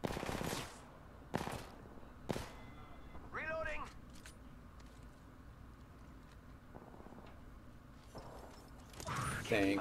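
Apex Legends gunfire erupts in short sharp bursts, a few spaced shots early and a heavier burst at the end, with in-game voice lines and chatter around them.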